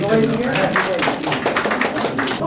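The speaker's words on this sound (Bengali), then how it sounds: "একটা হাততালি হোক আমাদের সবাই দিকে।" Audience applause at a solo painting exhibition in Uttara, a dense crackle of many hands clapping steadily for a couple of seconds, with voices mixed into the clapping.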